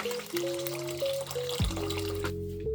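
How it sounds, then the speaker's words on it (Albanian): Water runs from a tap into a pot, and the pitch climbs steadily as the pot fills. A clear, close, continuous pour, with no talking. "Marrim një tenxhere dhe mbushim me ujë."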